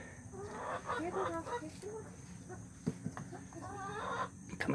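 Chickens cluck and murmur close by in a continuous chatter, with a person's voice mixed in among the birds.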